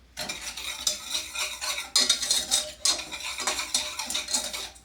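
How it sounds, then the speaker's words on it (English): A whisk scrapes rhythmically around a pot, mixing sugar, cornstarch, cocoa powder and salt for a Thanksgiving dessert, in loud repeated strokes with brief pauses and no speech. "We're just going to whisk that until we can distribute the cornstarch throughout this whole mixture"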